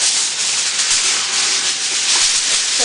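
Regular aluminum foil crinkles and rubs steadily while sheets are wrapped over a homemade cake board, a continuous close, bright rustling that runs for about three seconds with no talking.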